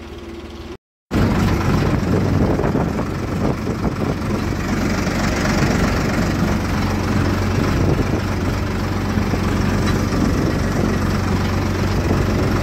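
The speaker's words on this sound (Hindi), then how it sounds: "टॉप गियर में बिल्कुल ऐसा चलता है जैसे बिल्कुल शोरूम ट्रैक्टर चल रहा है" A tractor engine runs loudly and steadily, a constant low rumble close by after a brief silent gap at the start.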